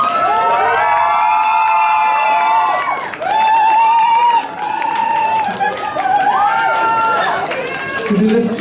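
Crowd at a Paris cosplay event cheering and shouting, many high excited voices yelling in loud surges with brief dips, close and continuous throughout.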